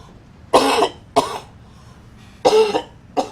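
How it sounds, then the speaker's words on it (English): A person coughs four times in quick separate bursts, the first and third longer and harsher, the last brief, close and clear with no talk. "You might have heard me cough."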